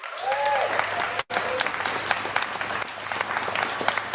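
A crowd applauds steadily for several seconds, a close, dense patter of clapping with a few voices mixed in and a brief cut partway through.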